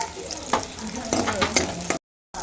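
Small onions sautéing in oil for tomato sambar: a close sizzle with quick scraping stirs that ends in a brief dropout of silence.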